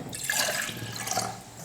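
Water poured into a cooking pot set on a lit stove, a steady splashing, gurgling stream running close and fairly loud for under two seconds with no talk.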